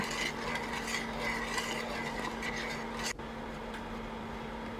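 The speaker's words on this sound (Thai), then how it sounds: "ใส่น้ำตาลทรายลงไปค่ะ แล้วเราก็คนนะคะ" Sugar being stirred into fresh milk in a pot over medium-low heat while making sweetened condensed milk, giving a soft, steady scraping and swirling with faint utensil contact throughout, no voices.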